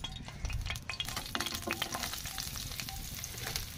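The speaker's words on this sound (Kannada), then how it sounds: "ಇವಾಗ ಫ್ರೈ ಮಾಡ್ಕೊಳ್ಳೋಣ್ರಿ. ಉಳ್ಳಾಗಡ್ಡಿ ಸ್ವಲ್ಪ ಲೈಟಾಗಿ ಹುರ್ಕೋಬೇಕ್ರಿ" Onions fry in hot oil while a spoon stirs them, giving a steady close sizzle broken by scraping and stirring knocks, with no voices.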